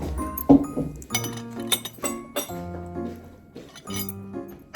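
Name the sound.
glasses clinking in a toast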